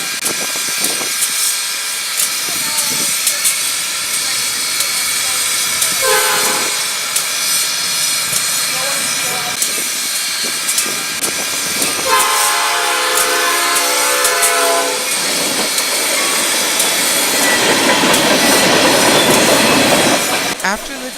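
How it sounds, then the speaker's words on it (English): A southbound JW freight train led by JW number 1 rolls past Springfield UPT station, loud and close, with rhythmic wheel clacking, long stretches of metallic squealing and a steady heavy rumble throughout. "After the JW freight train rolled on by"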